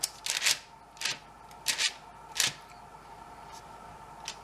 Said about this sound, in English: just go like that with a fork. Kind of press it down a bit. And then crisscross.